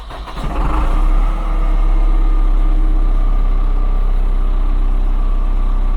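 A new MTZ-892.2 tractor diesel engine, with its glow plugs already warmed, fires within half a turn and settles into a loud, steady, deep idle rumble close by, with no voices.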